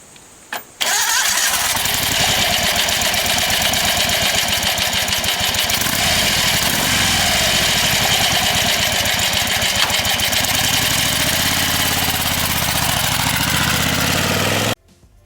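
Carberry Enfield Double Barrel 1000 V-twin motorcycle engine starting and then idling steadily for over ten seconds, a loud, close, even mechanical throb with no voices.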